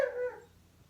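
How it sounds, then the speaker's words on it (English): A dog whimpers indoors, wanting to be let into a room: one short, high, whining cry that rises sharply and fades away within a second. "And my dog Emmy really wants to get in"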